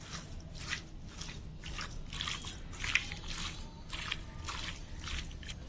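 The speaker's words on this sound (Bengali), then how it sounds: "এবার আমি সবগুলো ইনগ্রেডিয়েন্টস একসাথে হাত দিয়ে মাখিয়ে নেব" Hands mix rohu fish with salt and spices in a bowl, making soft, wet squishing and slapping sounds in a loose repeating rhythm, close and quiet over faint background noise.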